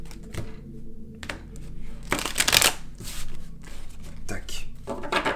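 Tarot cards shuffled by hand in brisk riffling bursts, with a loud dense flurry in the middle and lighter flicks and taps around it, all close up.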